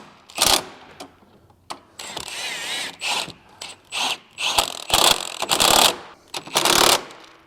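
Ratchet wrench cranking down a suspension spacer bolt on a 2017-25 Honda Ridgeline during a 4.5 inch lift install, sounding as close, sharp bursts of rapid clicking separated by short pauses.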